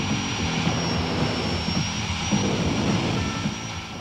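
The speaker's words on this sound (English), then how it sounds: "In the pit area of Great Lakes, the jets are always the center of attention. From watching them test their engines" Jet dragster engines run up in the pit area at a Great Lakes drag racing event, giving a steady, loud jet roar with a thin high whine held throughout, and no talk over it.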